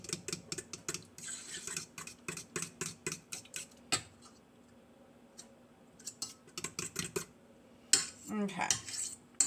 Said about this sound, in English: I want to give that one more stir with a fork